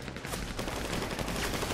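Dense, rapid gunfire crackling continuously in GTA V, sustained automatic shots, loud and busy throughout.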